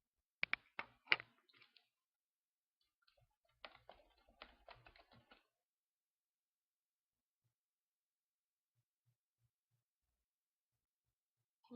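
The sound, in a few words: typing on a computer keyboard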